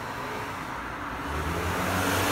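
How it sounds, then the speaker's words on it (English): Cars pass and idle at night in downtown Novato, outside a Whole Foods, as a steady roadway rumble that swells toward the end, with no talking. "A lot of cars"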